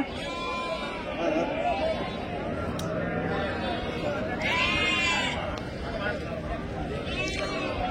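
Sheep bleat repeatedly at a busy Saturday livestock market in Angallu, several calls rising over a constant crowd murmur and people chatting nearby.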